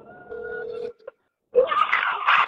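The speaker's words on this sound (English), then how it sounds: "Call that number and get the voicemail and send it to me." A telephone dialing a number over a live call, heard as a steady electronic tone that stops abruptly, a brief blip, then a short silence before a louder, noisier voice-like burst.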